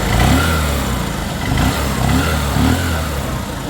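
Honda CB Shine motorcycle engine running after a repair for a smoke and piston problem, loud and close, idling with a few short throttle blips rising and falling in a rough, pulsing rhythm.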